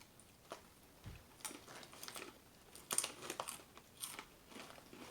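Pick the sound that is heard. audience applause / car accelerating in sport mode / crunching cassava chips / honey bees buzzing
crunching cassava chips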